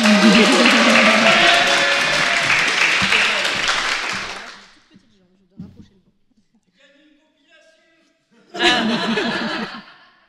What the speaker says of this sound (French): On l'applaudit pour l'encourager.